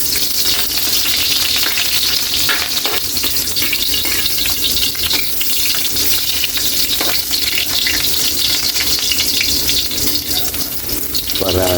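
Sliced ginger sizzles and crackles steadily in hot cooking oil for pork tinola, a dense continuous frying hiss with occasional stirring clatter, close and loud throughout with no talking.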